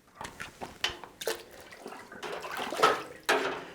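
Water pours and splashes into the dirty bag of a gravity water filter made from a Sawyer Squeeze and CNOC Vecto, in uneven gurgling gushes and drips, close up and continuous.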